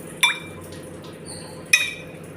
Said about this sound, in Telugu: మనకు అట్లా టంగున సౌండ్ వస్తే పాకమైనట్టు.